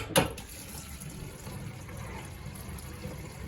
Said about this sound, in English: Have all the water running through.